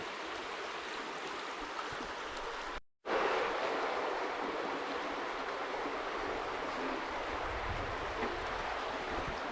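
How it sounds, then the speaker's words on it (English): A river babbles through a quiet rural spot near an abandoned Cold War bunker in Fern, Scotland, its steady broadband rush of water continuous and fairly close, with a brief dropout near the start and no voices. "It's quite peaceful with that river just babbling its way through here."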